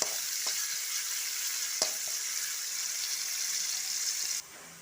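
Chopped onions fry in hot oil for a roasted-coconut mutton curry, a constant close sizzle broken by a couple of sharp spatula clicks. The sizzle drops away abruptly just before the end.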